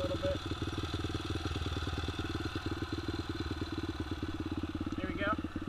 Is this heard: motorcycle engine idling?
yes